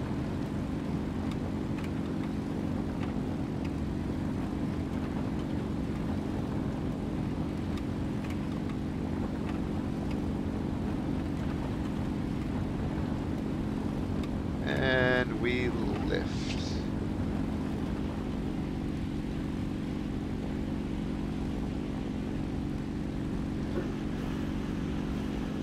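A Focke-Wulf FW190 fighter's piston engine in the War Thunder flight simulator drones steadily at high throttle, a constant close hum held throughout with a brief chirping blip midway.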